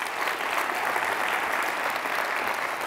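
Applause from a large audience in a university lecture hall at a charity pitch competition finale, a steady, even roar of many clapping hands, moderately distant and sustained throughout without a break.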